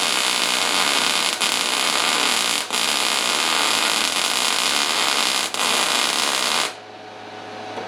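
Metal parts of a can smelter being welded: a steady, loud crackling hiss that runs for several seconds, broken by a few brief interruptions, then cuts off near the end, leaving a low background hum.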